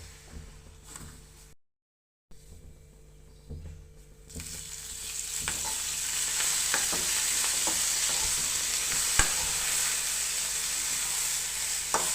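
Green chillies frying in a little oil: faint clicks and stirring at first, a brief gap, then a louder, steady hiss of sizzling swells and holds with occasional sharp pops and scrapes.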